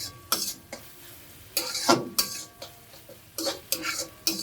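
Onion sautéing in a pan for a Kolhapuri chicken fry is stirred with a metal spoon in repeated scraping bursts over a soft sizzle, close and without talk.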